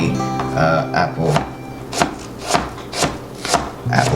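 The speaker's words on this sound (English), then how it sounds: "See how finely I'm chopping it up." A knife chopping apple slices finely on a board, a loud, regular series of sharp cuts at about two per second, with faint scraping between strokes.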